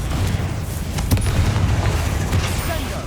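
Confringo fire spell blasts in a Hogwarts video game, heavy booming impacts with a sharp crack partway through, loud and rumbling over game sounds.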